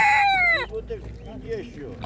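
A rooster crows once, loud and close, at an outdoor market in Lipsko, Poland: a high drawn-out call that breaks off, followed by softer clucking and murmuring voices in the background.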